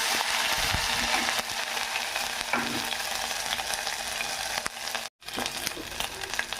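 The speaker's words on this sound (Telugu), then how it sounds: "ఉల్లిపాయ ముక్కలు ఇంకొంచెం ఫ్రై అయిన దాకా ఉండాలి" Onion pieces frying in a pan, a loud, dense, continuous sizzle that stays close and steady, broken briefly by a sharp cut-off near the end.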